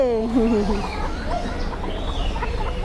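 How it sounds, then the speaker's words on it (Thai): Polish chickens cluck and murmur at a poultry market in Ban Pong, Ratchaburi, with a short run of nearby clucks at the start fading into a busy background of birds and voices. "อันนี้เป็นไก่โปแลนด์ค่ะ"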